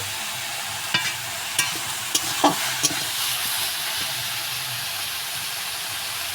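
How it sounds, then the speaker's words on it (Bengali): Moringa (sajne) greens sizzle and hiss steadily in a hot pan while being stirred, with several distinct spatula scrapes and clicks over the first few seconds. "শাকটা আমি এভাবে একটু নেড়ে করে নেবো"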